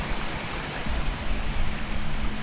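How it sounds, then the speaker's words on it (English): Heavy rain pouring down outdoors beside a vehicle under brake repair, a dense close hiss of drops pattering on surfaces with louder bursts in the low end. "And yes, it's raining its tail off"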